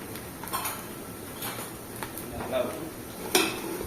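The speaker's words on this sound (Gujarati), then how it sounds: "1 મિનિટ જેટલું થોડું બ્રાઉન જેવું થઈ જાય ત્યાં સુધી આપણે હલાવશું." A spoon stirs turmeric, salt and spices in a cooking pan for an eggplant and potato curry, producing soft intermittent scrapes and clinks over a faint low sizzle.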